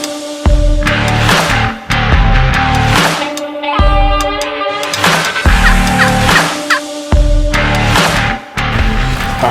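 Wild turkeys gobbling roughly 100 yards off during a spring turkey hunt, a series of loud, rattling gobbles repeating in bursts every second or two with no talking.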